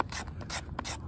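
A blade scraped along wood to raise fine shavings for catching a spark, a few quick rasping strokes, close and quiet with no voices.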